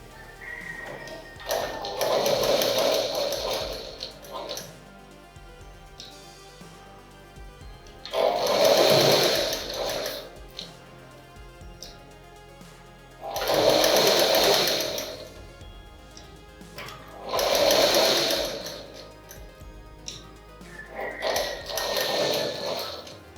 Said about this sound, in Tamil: நான் மிஷின் ஸ்டிச் போட்டுக்காங்க